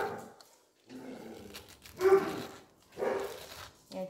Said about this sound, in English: Yeah, the dogs are playing, can you tell?